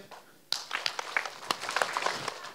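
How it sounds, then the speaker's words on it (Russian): Children clap their hands in a repeat-after-me rhythm game: a sudden start, then a run of fairly quiet, uneven claps spread across a couple of seconds with little else around them. "Повтори, повторяем хлопки за мной."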